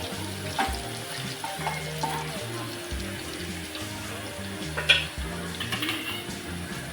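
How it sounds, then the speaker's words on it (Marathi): Crushed ginger and garlic sizzle in hot oil in a pan for an oyster fry, a steady frying hiss with occasional clinks, alongside intermittent background noise. "आपण याच्यामध्ये टाकणार आहोत आलं लसूण इथे मी ठेचून घेतलेलं आहे एक दोन मिनिट आपल्याला परतून घ्यायचं"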